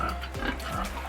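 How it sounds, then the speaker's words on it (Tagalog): Pigs on a small farm grunt in a few low, rough bursts close by, over a steady background hum with no talking. "Ano yung itsura ng aking mga baboy."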